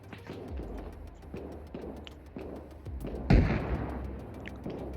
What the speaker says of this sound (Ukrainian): Хтось по комусь стріляє. Що за постріли?